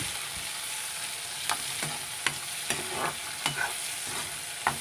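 Chopped onion and slit green chillies stir-fried in hot oil for eggless Maggi noodles. A steady close sizzle runs throughout, broken by sharp spatula scrapes and taps against the pan every half second or so.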